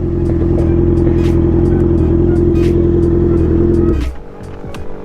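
A Honda CBR650R big bike engine runs with a loud, steady, close drone for about four seconds, then cuts off abruptly into quiet.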